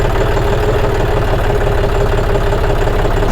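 A John Deere tractor's diesel engine runs at a loud, even idle, its low chugging pulse repeating steadily and close, with no voices.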